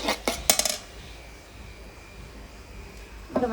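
Chopped onions are stirred in oil in a pot over a clay village stove. A burst of metallic scraping clinks comes first, then quiet low rumble, then another short clatter of the spoon against the pot.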